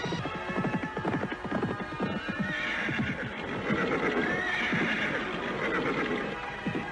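Horses ridden at speed, with a busy rapid clatter of hooves and two drawn-out whinnies rising over the galloping, fairly close and loud, no speech.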